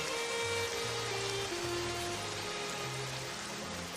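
A cartoon rain sound effect plays for an animated village story about flooding. A steady, even hiss of falling rain is heard, with a soft tune running underneath.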